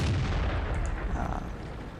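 A Dicker Max tank gun fires in the World of Tanks video game, a single heavy, broad boom with a long rumbling decay, heard alone without talk.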